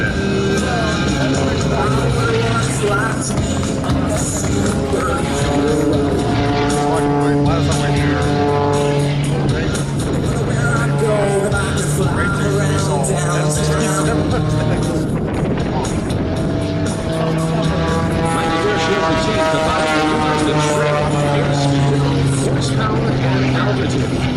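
An Extra 330 aerobatic airplane performs at the 2021 Great Tennessee Air Show in Smyrna, Tennessee, its loud propeller engine droning nonstop while the pitch sweeps up and down through the maneuvers.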